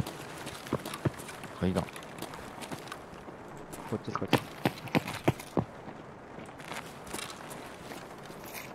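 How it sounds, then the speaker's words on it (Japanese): Footsteps on stairs in Escape from Tarkov, a run of sharp close steps and scuffs scattered through the stretch, heard under frequent talk from several players. "足音入った"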